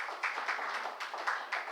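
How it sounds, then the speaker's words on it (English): Audience applause for a panel at an internet freedom forum, a faint, distant patter of scattered clapping with a few louder claps standing out. "Applause for the panel as they make their way down."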